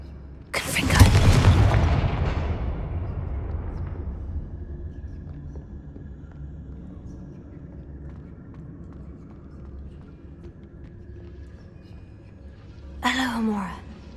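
A Confringo blasting spell explodes in Hogwarts Legacy, a loud broadband burst near the start that rumbles and fades over a few seconds, followed by quiet ambience and a brief voice near the end.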